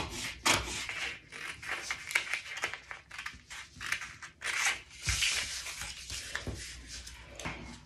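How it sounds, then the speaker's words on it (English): Scissors cut along the line of a printed paper T-shirt sewing pattern, making continuous close rustling and snipping with paper crinkle and hand handling throughout, without speech. "I'm going to find that line again, which is this one right here, and continue the cutting process."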